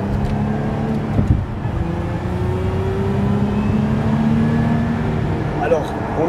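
A Lotus Emira sports car engine warming up just after starting, running at a steady low idle with a faint rising supercharger whine, continuous and close, with no clear speech.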